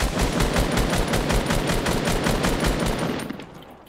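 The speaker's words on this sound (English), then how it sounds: "Start shooting that wall." Rapid automatic gunfire from the video game Fortnite, aimed at a wall: a loud, steady stream of shots that fills almost four seconds and then briefly trails off.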